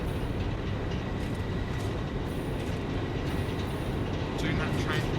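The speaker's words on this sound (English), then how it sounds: "That train's off." A moving train in the factory-building video game Satisfactory gives a steady, loud rumble of rolling rail cars. It runs throughout the clip.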